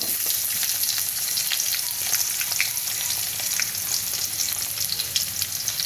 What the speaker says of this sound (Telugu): ఇప్పుడు ఆనియన్స్ యాడ్ చేసుకున్నాము